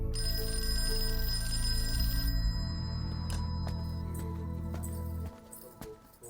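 A telephone rings on the line with a steady, repeating electronic tone, continuing for several seconds before cutting off near the end.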